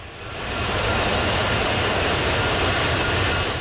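The engines of an Airbus A330 spool up to full power for a go-around, a broad roaring rush that swells in over the first half second and then holds loud and steady.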